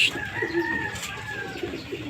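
Pigeons coo softly in a loft at feeding time, their low repeated calls steady and close, with a few bird chirps over a faint background hum.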